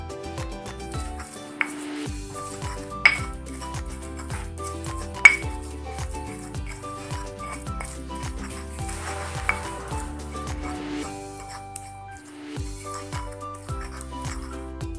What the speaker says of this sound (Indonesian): Sambil goreng tempe, ini aku ulek-ulek bumbu untuk sayur beningnya ya teman-teman.